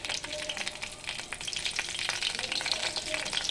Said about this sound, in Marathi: त्यामध्ये थोडं तेल तापलं की त्यामध्ये थोडं जिरं टाकायचं आहे. मिरची टाकायची आहे.